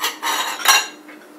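Bowl and ladle handled in a kitchen while making chicken soup, a few close clinks and scrapes of dishware and utensils over about a second.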